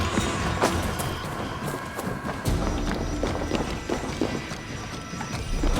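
A horse in Assassin's Creed Valhalla moves in a fast, irregular clatter of hoofbeats, loud and close, mixed with scuffing and busy game ambience.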